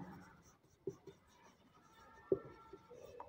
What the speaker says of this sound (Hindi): तो अपन यहाँ पे लिख लेते हैं थोड़ा सा